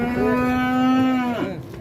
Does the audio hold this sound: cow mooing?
yes